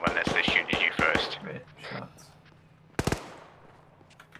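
Gunfire in ARMA 3 during a military campaign mission near a compound, with a sharp distant shot burst standing out after speech, plus a couple of fainter later cracks.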